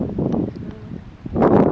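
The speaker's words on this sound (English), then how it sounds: "It's a little windy here in Oklahoma." Gusty wind buffets the microphone outdoors in Oklahoma ahead of a storm, with rough rumbling bursts that ease off and then surge again.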